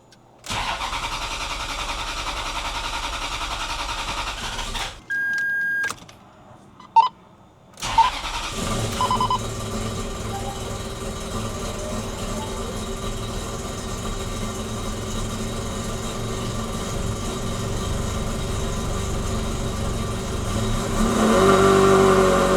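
A fuel pump whirs and ticks, then a Ferrari 360 engine cranks and catches, settling into a loud steady idle before revving up near the end.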